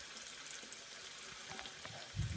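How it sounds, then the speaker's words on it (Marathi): Alu vadi, stuffed colocasia leaf rolls, fry in hot oil with a faint, steady sizzle and crackle throughout. "आता तेल ठेवलं तेल गरम झालं त्याच्यामध्ये आता तळून घेते"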